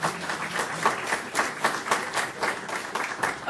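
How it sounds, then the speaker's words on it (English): A crowd applauds county board candidates at a League of Women Voters candidates' forum in DeKalb, Illinois, with a brisk, continuous round of clapping from a mid-sized audience, even in level and heard alone. "a big round of applause for all of our county board candidates"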